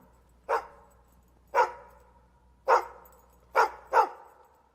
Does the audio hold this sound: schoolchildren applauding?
no